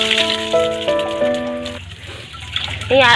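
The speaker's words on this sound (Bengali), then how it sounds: "এবার আলুটাকে ধুয়ে নিই, নালে একটা মাটি ভর্তি।" Water splashes and rattles as a soil-covered yam is rinsed by hand. A person talks over the running, gushing water for most of the stretch.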